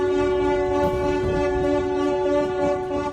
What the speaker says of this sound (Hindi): उसे खींचने वाली नावों ने हॉर्न बजाकर जश्न भी मनाया